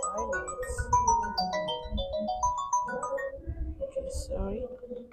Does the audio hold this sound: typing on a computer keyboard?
no